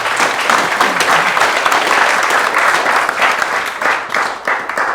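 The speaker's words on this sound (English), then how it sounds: "Let's give him a round of applause." An audience applauds a host, the loud, dense clapping carrying on steadily for several seconds with slight swells and a dip near the end.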